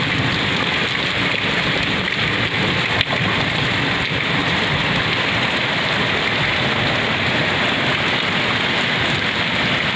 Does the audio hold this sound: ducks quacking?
no